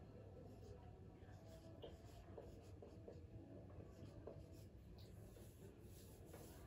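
Marker or chalk writing on a board during a Hindi maths lesson, a steady run of short scratchy strokes and taps under a soft background hum.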